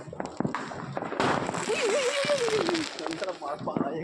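Firecrackers crackle and pop on Kali Puja night, with a whistling rocket-like whine and sharp bursts mixed under people talking nearby.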